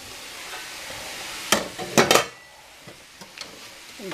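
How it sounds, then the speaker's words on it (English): A teriyaki stir fry sizzles steadily in a pan, broken by a few sharp clanks and scrapes of a utensil against the metal, then settles back into a quieter hiss. "I'm cooking. Look at stir fries."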